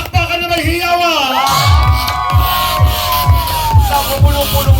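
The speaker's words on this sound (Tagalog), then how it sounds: "palakpakan na may hiyawan!" Guests at a 16th birthday party cheer and shout in a noisy crowd, the whoops carrying over a steady thumping music beat and a singing voice.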